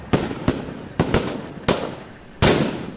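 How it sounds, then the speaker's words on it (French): Gunshots in a hostile zone during a military operation in the field, several sharp reports at irregular intervals, somewhat distant and echoing, with no talk. "les coups de feu sont audibles"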